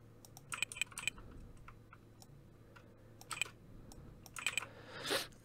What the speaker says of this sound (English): I could just type the website name, the store name.